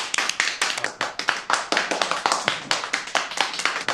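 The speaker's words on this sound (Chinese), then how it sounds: "来，鼓掌。" A family claps their hands together at a home dinner table: a brisk, steady run of sharp, close claps that continues throughout without any speech.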